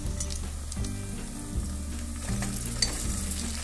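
Finely chopped capsicum is stirred into onions frying in a pan for pav bhaji, a steady close sizzle with rhythmic spoon strokes and scraping, no voices.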